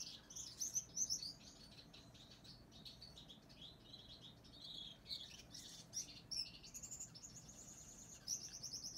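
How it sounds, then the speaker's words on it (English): A Gouldian finch in a breeding setup sings a faint, high, buzzy twittering song in repeated short phrases that run throughout. "You see Amarillo singing for her"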